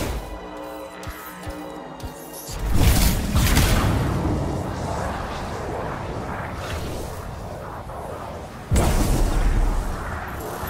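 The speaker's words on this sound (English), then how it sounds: "It'll be a contained explosion." Explosions from the Anthem video game: a loud broadband blast around 2.5 seconds that rolls into a sustained rumbling roar, then a second sharp boom near 9 seconds.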